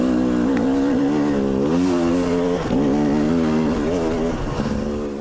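A 2019 KTM 300 TPI two-stroke dirt bike in fully stock form with the stock ECU, ridden hard. The engine drones loud and close throughout, rising and falling in pitch as the throttle opens and closes.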